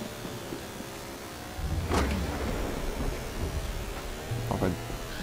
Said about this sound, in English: it's a British game. It's raining.